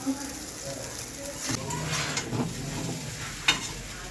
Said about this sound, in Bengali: আস্তে আস্তে করে নাড়তে হবে। চাউমিনে একটু বেশি করে তেল না দিলে ভালো লাগে না।